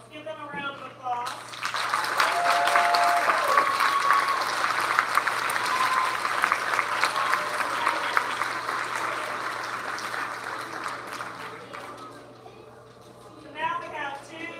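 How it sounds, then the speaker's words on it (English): Applause at an elementary school awards ceremony swells after a voice speaks, holds as a crowded burst of clapping for several seconds, then fades before talking resumes. "Let's give them a round of applause."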